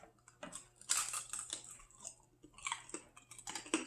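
Hard candied grapes crunched between the teeth in several crisp, brittle bites, close and fairly quiet, with no talking.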